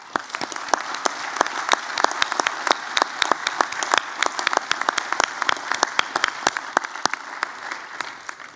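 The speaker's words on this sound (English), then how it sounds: "Please honour them with your applause." Sustained audience applause at a university graduation ceremony, dense clapping from a large crowd continuing steadily throughout with sharp individual claps standing out, no talk over it.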